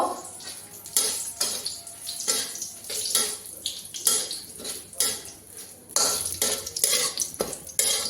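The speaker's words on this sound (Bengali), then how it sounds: "শুকনো মরিচ দিয়ে দিলাম, তেজপাতা দিয়ে দেব" Dried red chillies and a bay leaf go into a hot pan, giving repeated scraping and clinking of a utensil against the pan with light crackling frying throughout; busy, close, no voices.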